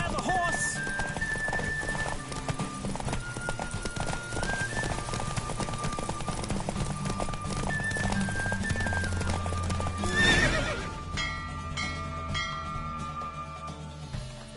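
Horse in The Witcher 3: Wild Hunt galloping hard and neighing, close and loud with rapid hoofbeats over game music, a burst of whinnying near the end before the pace eases.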